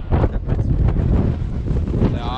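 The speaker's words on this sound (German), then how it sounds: "entweder man hört es jetzt auf der GoPro, dass es extrem windig ist" Strong wind buffets a GoPro microphone during urban freeride mountain biking in a gale, producing loud, continuous low rumbling roar with gusty surges throughout.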